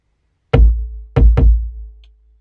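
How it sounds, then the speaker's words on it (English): Deep booming kick drum in a melodic drill beat, three hard hits with long low sustain, the second pair close together, alone with no talk. "So you have the main kick."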